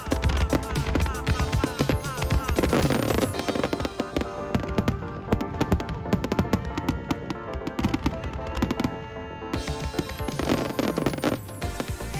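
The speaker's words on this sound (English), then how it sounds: "We've made it to the beach just in time for the opening volley of fireworks." Fireworks opening volley at a summer festival on a beach in Ito, Shizuoka, Japan: dense rapid bangs and crackles, loud and continuous, with a brief lull partway through.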